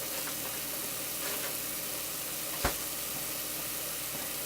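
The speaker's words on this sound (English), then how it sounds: "I'm going to let the onions cook for a little bit more" Onions fry in a pan for a turkey and lentil dinner, giving a steady, even sizzle throughout with one brief sharp clink partway through.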